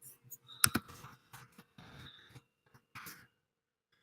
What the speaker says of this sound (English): Typing in here.